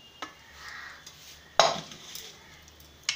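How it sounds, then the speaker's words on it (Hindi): A spoon stirs tempering (tadka) into a pot of dal tikri, giving a few soft scrapes and three brief clinks against the metal at irregular intervals, close and fairly quiet with no talking. "तड़के को हमने अच्छे से मिक्स कर लिया है"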